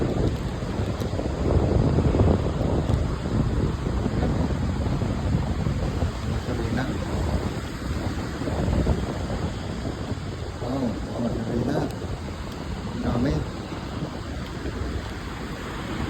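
Strong wind buffets the microphone at the seashore, with a constant broadband roar of wind mixed with breaking surf that stays loud and unbroken throughout.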